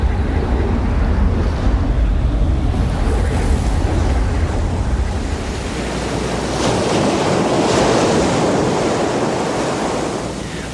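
Sea waves wash and roar continuously against a shore, loud and close, with heavy wind buffeting the microphone and a swelling surge of surf partway through.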